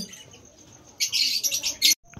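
Lutino Fischer's lovebirds at a bird sale break into a brief, close flurry of sharp, high chirps and squawks after a quieter stretch of faint background noise, cutting off abruptly near the end.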